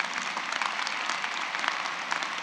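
Steady, dense applause from a large audience at a 2023 graduate school ceremony, continuous clapping filling the room at an even level with no voices standing out.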